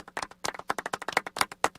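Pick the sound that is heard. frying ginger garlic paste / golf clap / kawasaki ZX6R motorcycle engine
golf clap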